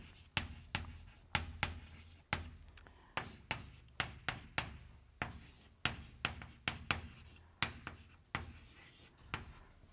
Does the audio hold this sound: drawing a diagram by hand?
yes